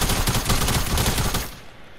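Rapid bursts of gunfire in the Fortnite video game, loud and close, crackling continuously for about a second and a half before cutting off abruptly.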